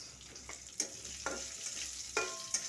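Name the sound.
frying onion and green chili for dried fish curry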